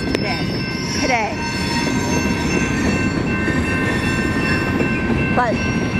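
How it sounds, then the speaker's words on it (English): A train rolls steadily past at close range, a loud continuous rumble of wheels on rail with brief high squeals from the wheels and a faint horn-like tone, with no talking. "But first, this train."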